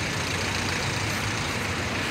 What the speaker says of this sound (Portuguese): Olha só quanto carro.